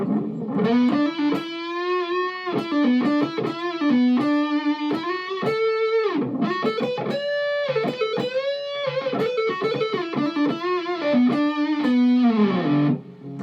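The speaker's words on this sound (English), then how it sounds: "Let's roll off the tone and get a nice wonky vocal sound." A distorted Fender HM Strat electric guitar with its tone rolled off plays a melodic line, sounding muffled and vocal-like, loud and sustained.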